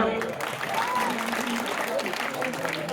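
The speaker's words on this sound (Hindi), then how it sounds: "ताली बजाओ" Audience at a Nimadi-language comic poetry gathering claps steadily, a dense continuous wash of applause with voices mixed underneath throughout.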